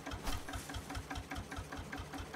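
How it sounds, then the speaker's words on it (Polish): The engine in the farming game Farmer's Life runs with a rapid, even mechanical chugging, a steady knocking pulse at moderate loudness, alone and without talk. "Sprawdźmy jeszcze jak się miewa ten nasz silnik."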